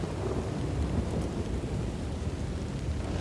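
Steady heavy rain with a low rumbling thunder wash underneath, a dense continuous storm roar at moderate volume with no voices.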